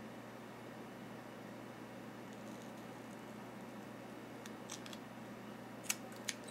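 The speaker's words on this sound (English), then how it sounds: "And then I'm going to cut that exactly in half." Scissors snip through a strip of tape for a model plane's tape weave hinge, with a few faint, sharp cuts near the end against a quiet room hum.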